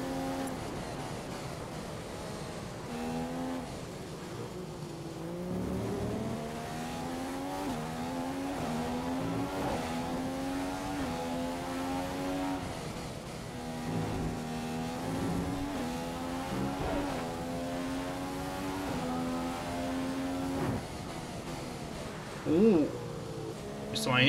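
Vettel's Ferrari F1 car on a qualifying lap in F1 2015 gives a high engine whine that rises through the gears and dips under braking, fairly quiet beneath steady talk.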